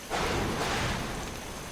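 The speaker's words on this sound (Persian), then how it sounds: "اما بعد بارون میگیره، چیزی که هادی فکرشو نکرده بود" Rain falls as a dense, steady hiss of broadband noise that swells in quickly and holds evenly throughout the short stretch, with no voices present.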